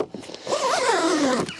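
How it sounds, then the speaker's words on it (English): A zipper on a Tow Pro Elite caravan towing cover is drawn closed in one smooth, fairly loud pull lasting about a second, close by and with no talk. "zip that back up."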